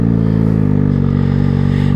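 A turbocharged Suzuki Hayabusa motorcycle rumbles steadily on a daily commute, its engine a loud, continuous low drone with a fast pulsing throb throughout.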